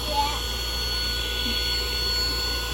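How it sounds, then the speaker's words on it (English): A vacuum cleaner runs with a steady, continuous whirring drone inside an RV, fairly close, with a person talking. "I just showed him how the vacuum works"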